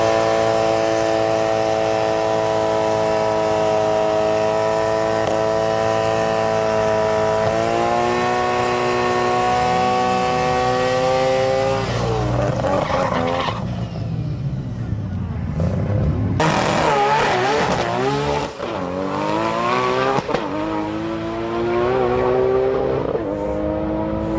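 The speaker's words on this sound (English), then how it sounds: "This silver Espoir R32 was one of the quickest at the meet, using a pair of secret HKS turbos." A silver Nissan R32 GT-R running a pair of HKS turbos makes a loud drag-strip pass with a steady high engine drone, then shifts and revs amid crowd noise near the end.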